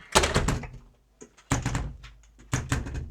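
A fidgety hotel room door at a luxury safari lodge in Kruger thuds and rattles in three heavy bursts of knocks and clunks, close and loud, with brief quiet between.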